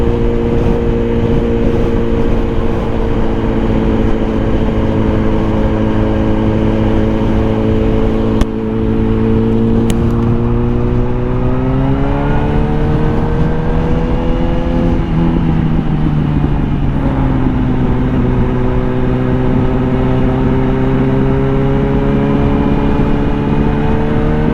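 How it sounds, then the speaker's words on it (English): Steady engine drone of a motorcycle idling and creeping along in city traffic, with rising and falling engine pitch as it moves and other vehicles around it, continuous and loud throughout with no talk. "I just wait in traffic like us regular folks"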